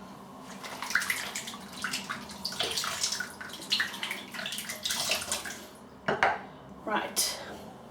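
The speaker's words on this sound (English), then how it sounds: "Squeezing out the brush." Lather-laden shaving brush squeezed out, giving soft wet squelching and dripping sounds in a run of small bursts, close and fairly quiet.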